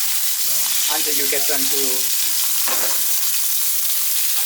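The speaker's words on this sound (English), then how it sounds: "And then you take the steaks and again in the pan." Wagyu steaks sear in a hot pan with a loud, constant sizzle, while someone talks briefly over it.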